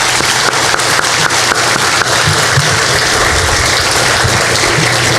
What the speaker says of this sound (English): So just a quick round of applause for that.